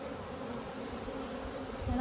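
A thick, steady hum of honey bees rises from an opened hive during a colony check, close and continuous, with a faint thump at the end.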